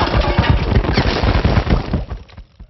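Cartoon popcorn bursts in a loud, rapid, crackling volley of pops and booms like gunfire, dense for two seconds before thinning out and fading.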